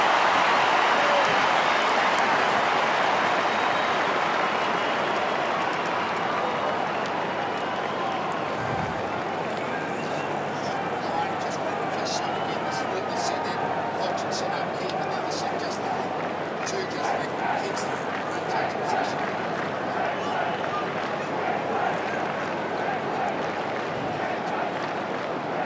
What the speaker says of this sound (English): Get an idea of this fantastic crowd.